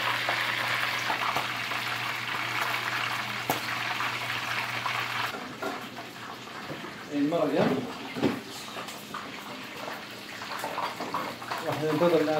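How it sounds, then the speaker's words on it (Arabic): Chicken pieces frying in oil in a pot give a steady sizzling hiss for several seconds. Clatter and handling noises follow as the cooking continues. "ننتظر الآن الدجاج الثالث ينقلي"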